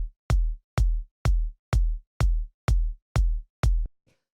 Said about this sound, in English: So you can hear this is just like a pretty standard sort of house kick.